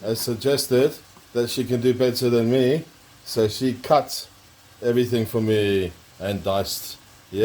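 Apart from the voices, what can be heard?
None of the usual background noises is heard.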